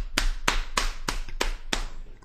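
A hand slaps a leg six times in an even, steady rhythm to imitate a clap, each slap sharp, close and clear with nothing else beneath it.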